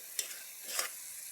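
Tomato masala for cholay handi frying in a pot, a soft steady sizzle with two brief louder stirring scrapes, faint and close with no talk.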